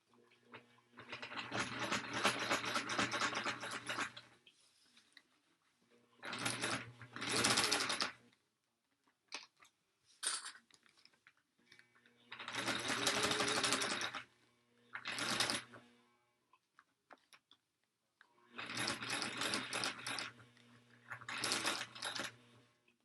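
A sewing machine stitching around a tote bag, running in several bursts of rapid mechanical whirring a few seconds long, separated by quiet pauses with small clicks and handling sounds.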